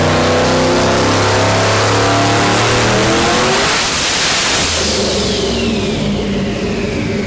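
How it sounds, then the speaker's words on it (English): A 2018+ Ford Mustang engine on a stock ECU revving hard, its pitch climbing and sweeping, then the roar stumbles and breaks up as the engine cuts out before picking up again. "the car is cutting out"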